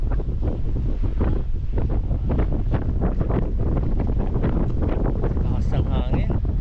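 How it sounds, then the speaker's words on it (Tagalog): Strong wind buffets the microphone continuously on an outdoor bike traverse in Lobo, Laiya, with dense roaring gusts and rumble throughout. A voice is briefly heard near the end. "Lakas ng hangin."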